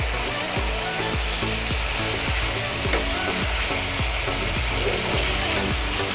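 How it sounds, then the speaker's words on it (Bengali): Fried jackfruit koftas simmer and sizzle in a thick gravy with steady, close frying noise, while a repeating mechanical clatter ticks rhythmically underneath throughout. "কোপ্তাগুলোকে দিয়েও গ্রেভির সঙ্গে খানিকটা কষিয়ে নিই আমরা"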